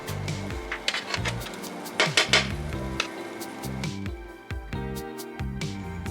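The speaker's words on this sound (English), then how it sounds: "we're going to scoop it up and put it on a tray for them" Metal spatula scraping and clanking on a Blackstone griddle as cooked taco meat is scooped onto a tray, with repeated sharp metallic scrapes and taps, close and loud with no talking.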